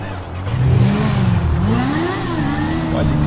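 An old car's engine revs loud and close in GTA V, its mid-pitched drone rising and dipping through a few swells of throttle, with no talking over it.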